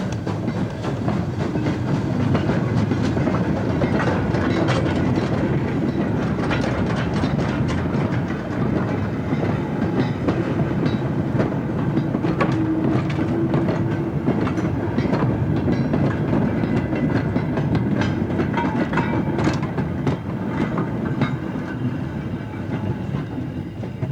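British Railways Standard steam locomotive 76079, built at Horwich in 1957, runs steadily with a continuous rumble and rhythmic clickety-clack of wheels on rail, close and unbroken throughout.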